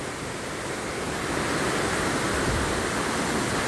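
A small waterfall in a Nepali village gorge, a steady, dense rush of falling water filling the scene evenly from start to finish with no voices.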